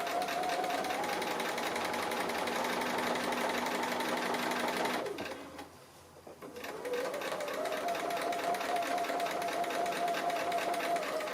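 A sewing machine stitches free-motion quilting on a tree applique quilt, a fast, steady mechanical chatter that pauses briefly in the middle and then resumes at the same pace.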